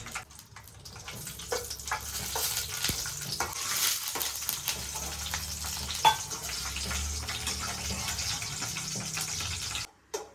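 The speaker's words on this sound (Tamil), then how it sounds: "இப்போ நான் நெய் ஊற்றி முந்திரி திராட்சை வறுத்து எடுத்துக்கலாம்" Cashews and raisins fry in ghee in a kadai with a soft, steady sizzle and crackle, broken by scattered clicks and scrapes of stirring, fairly quiet and close, ending in a brief silence.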